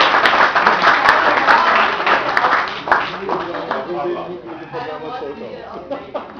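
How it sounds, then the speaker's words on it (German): Applause at a canoe club's 60th anniversary celebration swells loudly at first, then thins and fades as a voice begins speaking over the tail of the clapping. "Auch mal ein Applaus."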